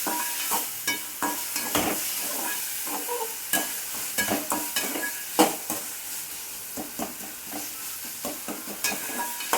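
Onions and tomatoes stirred and sautéed in a pan while making egg rice, a steady sizzle broken by repeated scraping strokes of a spoon against the pan, close and alone.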